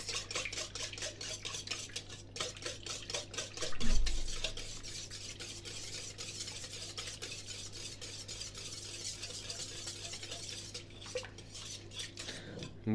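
Bun dough mixture being stirred in a bowl for about half a minute, with steady scraping and clinking of a utensil against the bowl, continuous and close, one heavier knock partway through.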